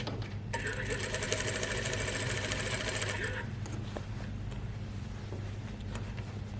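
A sewing machine stitches around the neckline of a lined overgarment in a steady, buzzing run for about three seconds, then stops, leaving quieter handling noise.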